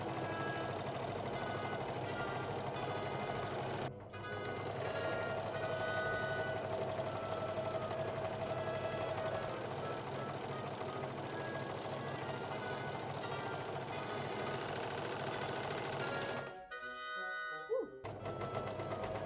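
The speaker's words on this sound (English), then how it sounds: "Next, I also did a rolled hem on the 2 side edges." An overlocker stitching a rolled hem along fabric edges runs as a steady, continuous mechanical whir for most of the stretch, broken by a brief pause early and a short stop near the end.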